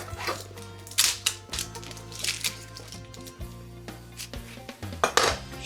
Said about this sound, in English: So, right, onion, let's get this chopped up.